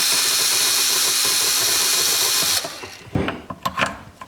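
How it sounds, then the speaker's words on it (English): Power drill whirring loudly and steadily while boring plastic from inside a toy police motorcycle wheel, then cutting off abruptly and followed by a few handling clatters and knocks. "I'm gonna take my drill and just take a little meat off of the inside of the wheel"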